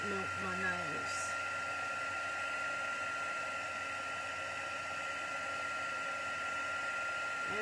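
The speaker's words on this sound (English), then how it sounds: "I just heat it until it's definitely shiny and it's not grainy anymore" Heat gun running steadily for several seconds as it melts embossing powder on a stamped card, a constant close airy whoosh with a brief voice at the start.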